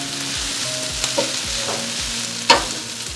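Shredded chicken and softened onion stirred in a frying pan, with a steady sizzle throughout and soft scraping strokes of the spoon against the pan, one sharper clink near the end.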